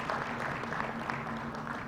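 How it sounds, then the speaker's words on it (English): Forum attendees at a financial inclusion and literacy event clap for two presentations, a brief, moderately dense patter of hands with faint background tones beneath. "let's clap for the two presentations that we've had"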